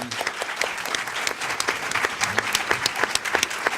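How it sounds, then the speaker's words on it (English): An audience at a Boston symposium gives a research team a quick round of applause, many distinct hand claps ringing together close and fairly loud, steady for a few seconds. "Quick round of applause for this dynamite research team."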